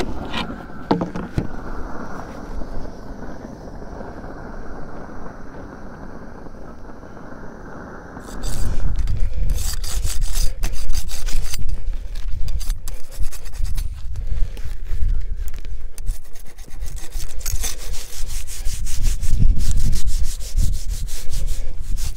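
Wooden beehive cover board scraped clean by hand with a hive tool, a steady close scratching and rubbing that starts quietly and turns louder and coarser partway through, continuing without pause and with no talking.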